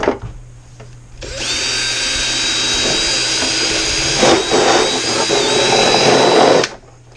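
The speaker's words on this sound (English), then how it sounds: "drill it out." A power drill whirs loudly for several seconds at a steady pitch, with a brief dip midway, then stops abruptly.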